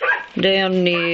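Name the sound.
dog barking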